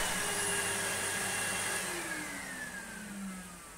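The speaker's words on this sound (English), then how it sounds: "with power applied, it is a beautiful sounding motor. Oodles of suction." A 1996 Numatic Henry HVR200 vacuum cleaner motor running with a loud, steady whine that slowly falls in pitch and fades as it winds down.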